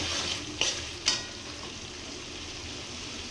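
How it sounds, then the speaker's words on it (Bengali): Pointed gourd being sautéed in a pan for a poppy-seed posto curry, giving a steady low sizzle with two short sharp clinks of a spoon against the pan. "এবার পটল দিয়ে কষাচ্ছি।"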